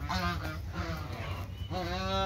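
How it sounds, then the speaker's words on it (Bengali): Snow geese honk nearby at a farm, a cluster of nasal overlapping calls in quick succession, fairly soft and with no voices. "আমাদের ভিতরে নিয়ে যেয়ে দেখায় যে কটা হাঁস বসে আছে এখানে।"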